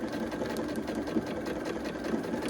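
A sewing machine stitching a quilt runs steadily, its needle stitching in a fast, even mechanical rhythm close by.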